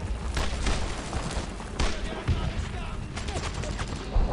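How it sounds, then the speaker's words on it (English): Gunfire in the World War II shooter Brothers in Arms, a dense continuous fusillade of rifle and machine gun shots with occasional heavier thumps, loud and close, under shouted voices. "I need suppressing fire on that MG!"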